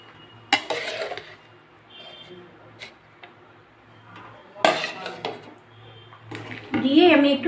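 Sago stirred into milk in a pot for sweet sago payesh, heard as a few separate bursts of spoon-on-pot clatter and scraping with quiet gaps between them.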